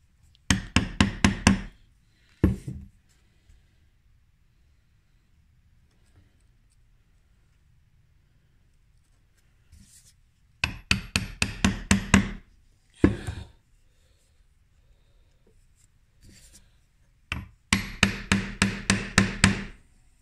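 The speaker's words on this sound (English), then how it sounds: "I'll be able to trim that up now with the chisel" A chisel trims hand-cut wooden dovetail pins, heard as tight clusters of rapid sharp taps and knocks separated by long quiet gaps, close and crisp.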